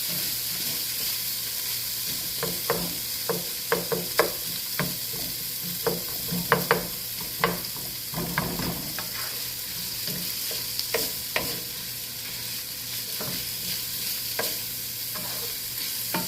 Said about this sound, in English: On this side, mix it in with them peppers and onions.